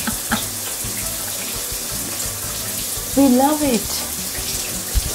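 Shower water runs steadily in the bathroom of a rented flat, a broad continuous hiss with a brief voice speaking over it midway.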